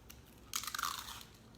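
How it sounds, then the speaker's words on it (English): A single crisp crunch of someone biting into Italian nachos, close and fairly quiet, followed by a short burst of crackly chewing. "Oh, listen to that crunch"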